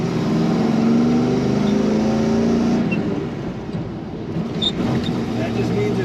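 A 1984 Chevrolet K10 pickup truck pulling away in a low first gear on the road: a loud, close engine drone that holds steady, then eases slightly midway through.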